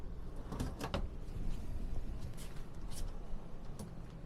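Large lower cabinet drawers in a 2022 Magnitude RS36 Super-C motorhome are pulled open, giving a few soft sliding and bumping sounds, faint and close, over a low room hum.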